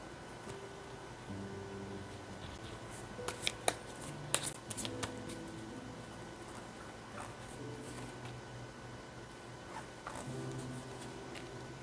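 Tarot cards shuffled and drawn in a quiet room, soft papery rustles and a handful of sharper card flicks clustered in the middle, faint and close with low background hiss, no voices.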